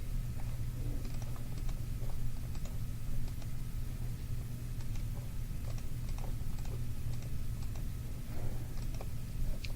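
Soft, rapid key clicks on a calculator as an algebra problem is entered, a loose run of light taps over a steady low hum, with no talking.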